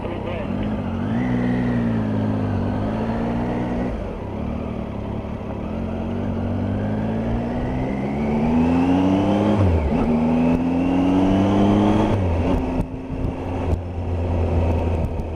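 A 2018 Triumph Tiger 800 XRT motorcycle ridden on bumpy old roads, the engine droning steadily and rising and falling in pitch through gear changes, loud and close. A rider talks over it throughout.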